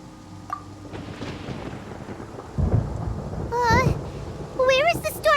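Thunderstorm in a video game with a low rumble of thunder and rain noise that swells midway, while voices talk over it near the end.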